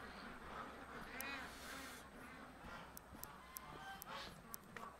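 Ducks quacking faintly on a farm during morning chores, a few scattered soft calls with light clicks and rustling in a quiet background.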